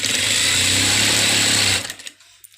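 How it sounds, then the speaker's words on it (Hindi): A sewing machine runs steadily while stitching the seams of an Afghani salwar, a continuous close whirring drone that cuts off near the end, leaving quiet. "और ये सिलाई मैं पूरी कर लूँगी।"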